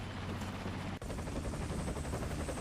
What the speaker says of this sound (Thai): มีคนใช้เฮลิคอปเตอร์นะฮะ